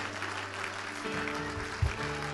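A church congregation claps in praise, a dense sustained wash of applause over music, moderately loud, with one louder thump near the end.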